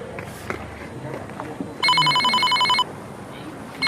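A telephone rings with a bright electronic trill for about a second, loud and steady, set against background voices and movement.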